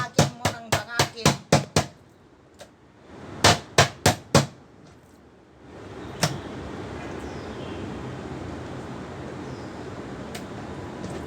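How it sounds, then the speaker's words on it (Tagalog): Rapid series of loud, sharp thuds of a meat hammer pounding meat, two bursts of blows, then a steady hiss of background noise takes over. "tapos nang nabangag ng martilyo. Martilyo ng karne."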